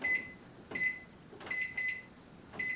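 A kitchen timer beeps in short electronic bursts, a few quick clusters of high tones with pauses between, set while a broccoli quiche browns under the broiler; quiet kitchen background.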